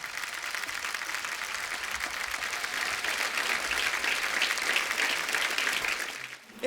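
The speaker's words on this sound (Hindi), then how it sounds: "एक बार हमारे सारे कलाकारों के लिए जोरदार तालियां" Studio audience at a comedy show breaking into loud, sustained applause, a dense roar of clapping that swells slightly, then drops away abruptly at the end.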